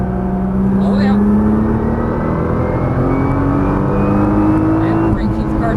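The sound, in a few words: sports car accelerating at full throttle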